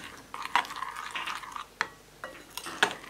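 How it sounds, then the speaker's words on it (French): A spoon gently stirs finely chopped chocolate melting into liquid cream, soft wet scrapes and light clinks against the bowl at irregular intervals, close and quiet, with no talking. "Là, on mélange délicatement."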